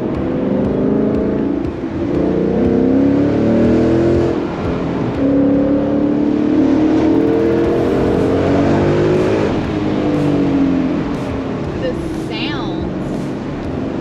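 Ford Mustang fitted with a Corsa exhaust accelerates through the gears on a winding mountain road, its engine note rising steadily and echoing loudly up close, with talk inside the car over it.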